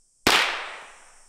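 A single sharp gunshot, fired on a ranch by a shooter hanging suspended, cracks out after a moment of silence, then rings off in a long fading echo.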